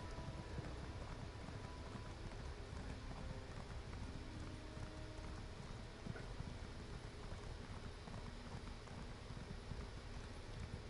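Muffled hoofbeats clop steadily under a dense, noisy background, a horse moving at a continuous pace with no voices, in the video game Elder Scrolls Online: Morrowind.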